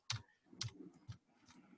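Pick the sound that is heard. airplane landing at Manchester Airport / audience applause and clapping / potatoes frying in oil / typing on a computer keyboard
typing on a computer keyboard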